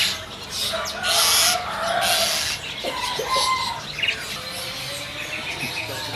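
Caged birds at a bird market kiosk chirp and call in overlapping bursts, a dense mix of bright tweets and whistles, some close and loud, over a busy background murmur.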